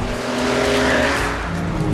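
An Audi TT and a BMW Z4 race off the line into the first corner: loud, continuous engine roar blends with squealing tires, dense and close throughout, with no talking.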